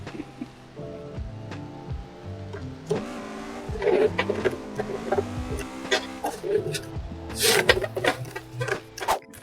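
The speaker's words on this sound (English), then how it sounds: "keep giving it appropriate amount of throttle to keep the car in drift" Car drifting, throttle held to keep it sliding sideways at an angle, engine revving and rising in bursts with tonal tire squeal layered over a steady hum, voices speaking faintly underneath.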